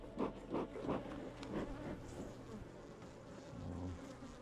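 Honeybees buzzing around open hives during a spring inspection of established colonies and a new swarm, a steady droning hum with a few louder pulses early on as bees fly close by.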